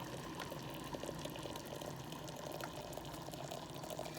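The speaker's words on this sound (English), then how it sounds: "Now I'm gonna slide my little tea basket in and add my hot water." Hot water pours steadily over a green tea basket in a cup, a continuous close splashing trickle with no talking.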